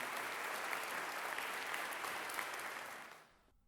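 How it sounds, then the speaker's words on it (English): Canned applause track plays as a dense, steady wash of clapping from a large crowd, holding even before tapering off and cutting out near the end. "You have a canned applause track now?"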